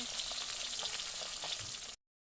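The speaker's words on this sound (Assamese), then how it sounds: "এইফালে মাছ ফ্ৰাই হৈ আছে" Fish sizzles and crackles steadily in hot oil in a pan, a continuous close frying hiss that cuts off abruptly.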